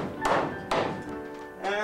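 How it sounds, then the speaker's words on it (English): A hammer strikes a piece of wood with shaker shims in a shop, giving three solid thunks at an even pace. Each blow rings briefly afterward and there is no talking. "And this piece is getting hammered."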